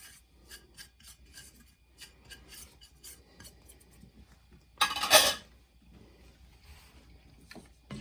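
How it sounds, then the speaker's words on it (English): Spices, including garlic, onion, parsley, salt and pepper, are stirred into country baked beans with repeated soft scraping and rubbing strokes, plus one louder burst of scraping midway, nearby without talk. "we're going to mix that up really well"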